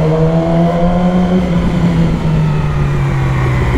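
A Yamaha R6 sport motorcycle engine running loud and close, a sustained steady drone with rising pitch as it revs, no voices.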